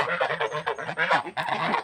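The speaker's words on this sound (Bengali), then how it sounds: "দেখতে হাঁসগুলো কীরকম ডাকছে" Ducks at a flooded village house call close by in a rapid run of nasal, honking quacks, several birds overlapping with brief pauses between bursts.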